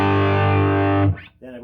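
Distorted electric guitar through the distortion channel of a 30 watt Canso amp, played at quiet volume: a sustained, buzzy chord rings for about a second, then cuts off into a brief scratchy transition and a softer, clipped phrase.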